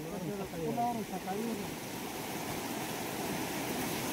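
Stream water rushing near a waterfall, a steady broad wash of flowing water with a person talking over it at the start.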